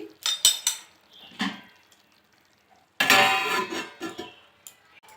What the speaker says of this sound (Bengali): এবার একটা ঢাকা দিয়ে দিচ্ছি